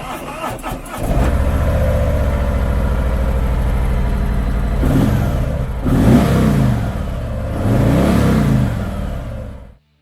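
A 2019 Harley-Davidson Tri Glide Ultra Classic trike with ABS starts, then holds a loud, steady idle and revs up twice before cutting off, with a voice faintly underneath.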